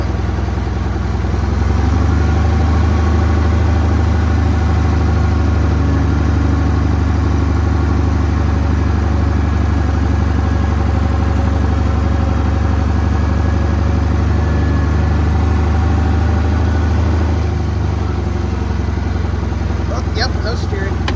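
A 1975 International Harvester 666 tractor engine runs steadily while driving, a loud, constant low rumble with mechanical clatter that holds for about fifteen seconds before easing off, with brief rattling near the end.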